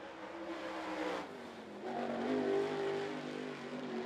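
Race car coming out of turn three at Volunteer Speedway during a night race, a distant engine roar swelling as it accelerates, steady and moderately faint.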